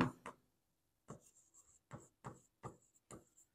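Chalk or marker taps and scratches on a board in a chemistry lesson, a series of short separate strokes about every third of a second, close and fairly quiet with silence between them.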